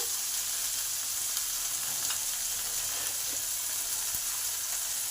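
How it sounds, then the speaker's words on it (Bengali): Tomatoes fry with salt in a pan, giving a steady, close sizzle that holds even throughout with a few faint ticks and no talk. "এবার টমেটোটাকে ভালো করে নরম করে ভেজে নেব স্বাদ অনুযায়ী নুন দিলাম"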